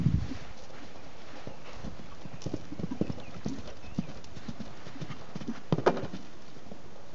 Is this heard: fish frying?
no